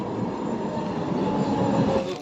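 A passenger train rumbles steadily into a station, a continuous loud low roar and rattle of rolling cars holding through the whole stretch with no voices over it.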